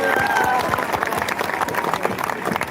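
A crowd at a protest rally over exam paper leaks claps loudly, a dense, sustained burst of applause with a faint voice trailing at the start.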